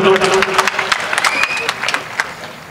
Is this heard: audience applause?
yes